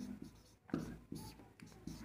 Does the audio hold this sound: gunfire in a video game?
no